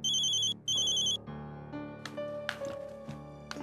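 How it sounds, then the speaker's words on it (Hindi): A phone ringing with an incoming call, two bright electronic ring bursts followed by a soft melodic tone sequence with scattered clicks. "हाँ स्मृति, ये तो तेरी बीवी का फोन है"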